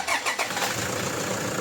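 A Toyota Fortuner engine, fitted with an oil filter that has a leak, cranks and catches, with a few quick starter pulses before settling into a steady, fairly loud running hum.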